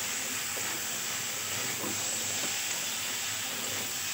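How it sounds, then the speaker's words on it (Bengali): Fried soybean chunks and boiled potatoes are stirred in a hot pan, a steady hiss of frying throughout with a few faint scraping knocks. "এবার সয়াবিন আলু ভালোভাবে মিশিয়ে নিতে হবে"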